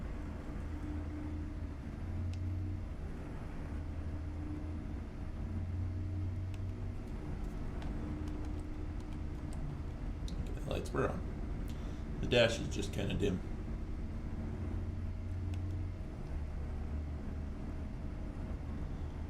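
Ford LTL 9000 truck engine with a Z-Mod sound mod in American Truck Simulator, a steady low diesel drone that runs through the whole stretch under continuous talk, with a brief louder burst of activity near the middle.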